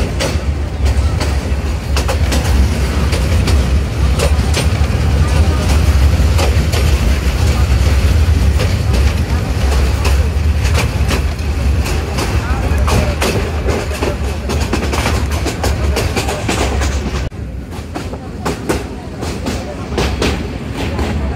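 The 737 Up Egarosindur Provati Express train from Dhaka toward Kishoreganj rumbles loudly and continuously, with clattering wheels and thumps of the rail cars. Background voices mix in, and the noise eases slightly near the end.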